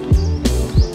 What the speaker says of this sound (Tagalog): hindi ko alam kung naririnig niyo yung mga huni ng mga ibon dito